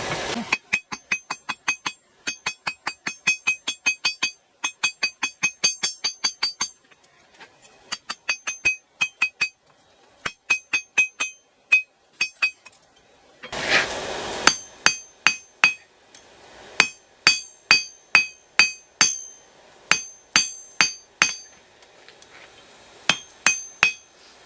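Steel bar stock for a steak turner is hammered straight on an anvil, a long series of sharp ringing metallic strikes in quick bursts with pauses, close and clear, with a brief scraping rustle midway.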